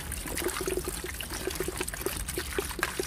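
Water is poured into car wash concentrate for an Audi A8, a close, gurgling pour with a steady trickle and small splashy bubbles.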